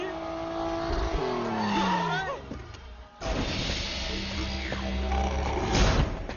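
A car revving and driving, with tire squeals and skidding, engine roar rising and falling throughout, a brief dip near the middle; voices occasionally speak over the motor noise.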